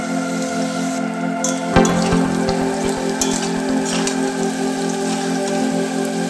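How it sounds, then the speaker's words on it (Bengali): Potato pieces frying in oil with salt and turmeric crackle and sizzle steadily up close, with a utensil clatter partway through and a low rhythmic rattle of stirring. "দিয়ে দিচ্ছি অল্প করে লবণ আর হলুদ দিয়ে আলুটাকে ভেজে নেব।"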